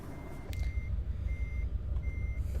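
Reversing beeps from a Hyundai Xcient truck in Euro Truck Simulator 2 sound in three evenly spaced tones over a steady low engine rumble, with a brief sharp click near the start.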